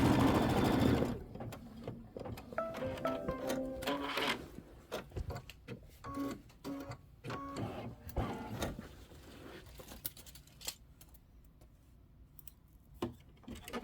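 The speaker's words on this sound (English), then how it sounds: "So I'm going to go ahead and let it sew." A sewing machine, likely an embroidery machine, stitches a trim line for a Kimberbell Halloween flying geese quilt block. Rapid mechanical needle clatter comes in uneven bursts and starts louder before settling into a steady, quieter run.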